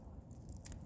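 A single crisp, close crunch of grilled Jin Ramen instant noodles, toasted over a campfire in minus-ten-degree cold, bitten and chewed briefly.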